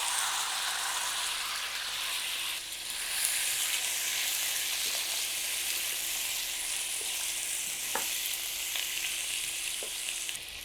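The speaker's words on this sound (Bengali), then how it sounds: "এই তেলে চিকেনটা দিয়ে দিচ্ছি।" Chicken pieces fry in hot oil for curry, giving a steady, close sizzle with a faint crackle and a few soft stirring clicks throughout.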